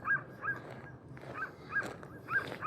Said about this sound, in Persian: سگا صداشون بدتر.